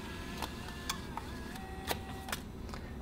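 A Fujifilm Instax Mini Link 2 instant photo printer working through a print, giving a steady mechanical whir with a series of short clicks and whining motor sweeps, close and alone.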